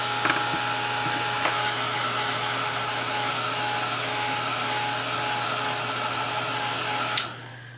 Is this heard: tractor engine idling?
no